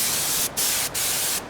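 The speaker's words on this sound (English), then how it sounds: "you can use compressed air" Compressed air dust blower cleaning sanding dust off an RC airliner model, three close hissing bursts separated by brief pauses.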